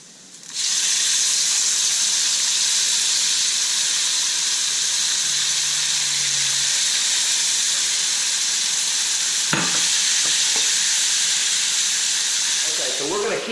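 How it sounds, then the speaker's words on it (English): Dove meat fries and is stirred in a pan with paprika, garlic, ginger and sauce, giving a loud, steady hiss and sizzle with occasional clatter of stirring near the end. "we're going to throw the dove meat in there."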